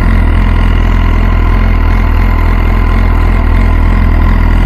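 An MV Agusta F4 CC motorcycle engine runs close and loud, holding a deep, steady throbbing idle without a break.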